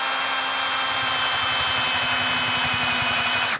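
A drill bit boring into wood for a sack-back Windsor chair, a loud continuous whirring grind up close with a steady tone and rapid chattering texture, stopping abruptly at the end.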